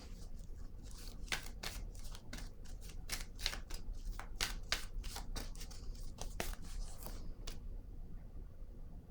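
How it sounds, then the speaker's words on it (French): Cards being handled and drawn from a deck, a quick series of crisp close flicks and slides in an uneven rhythm, quiet and alone, tapering off near the end. "Je vais piger une autre carte."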